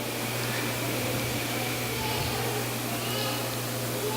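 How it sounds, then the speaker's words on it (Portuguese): A loud electric fan runs close by with a steady, unbroken whir and a low constant hum throughout, with no other sound over it. "Acho que esse ventilador está com um barulho meio forte."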